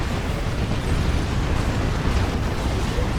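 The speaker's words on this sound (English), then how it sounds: "Demolisher cannon misses from the Baneblade." A Baneblade super-heavy tank fires its demolisher cannon in a Dawn of War 2 3v3 match, and the shell misses. A loud, sustained, dense rumbling blast fills the whole stretch at a steady level without a clear separate impact.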